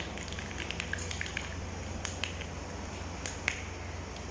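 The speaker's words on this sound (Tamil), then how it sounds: "கடுகு நல்லா பொரிஞ்சதுக்கப்புறம் கருவேப்பிலை தலையை போட்டுடலாங்க" Mustard seeds pop and splutter in hot oil while a tempering is made for drumstick chutney, with scattered sharp crackles over a soft, constant sizzle.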